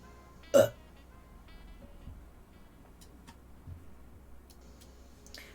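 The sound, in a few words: belch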